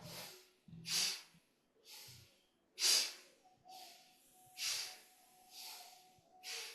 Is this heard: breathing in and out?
yes